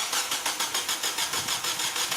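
A Hyundai car engine cranking without catching: a rapid, even chugging of the starter, steady and fairly close, with no voices.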